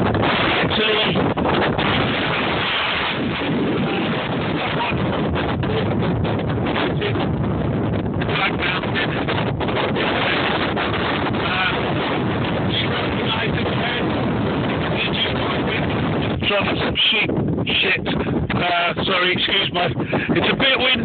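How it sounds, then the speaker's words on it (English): Strong wind on a mountain top buffets the microphone in a loud, continuous roar that rises and falls in gusts, covering everything else. "it's a bit windy up here."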